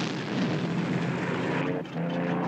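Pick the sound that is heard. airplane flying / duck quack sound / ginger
airplane flying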